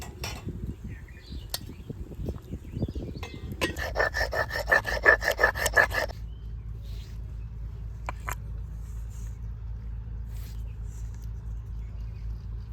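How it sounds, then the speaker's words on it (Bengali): Tomatoes being ground on a stone grinder in a home kitchen, a loud coarse rasping and rubbing for a few seconds, then a low steady background hum with a couple of brief clicks. "টমেটোগুলো বেটে নিই"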